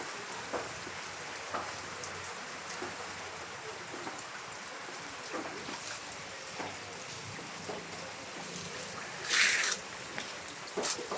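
Rain falls during typhoon Romina amid flooding, a faint, steady hiss of water with scattered splashes and a brief louder rush near the end.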